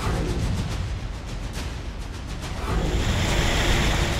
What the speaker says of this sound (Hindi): बारिश के चलते पूर्णा नदी उफान पर है और शहर तालाब बन चुका है।